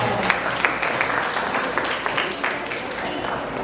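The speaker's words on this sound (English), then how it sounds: "Give her a round of applause." An audience applauds a child at a children's health programme, with a continuous patter of many hands and a few sharper claps standing out near the front.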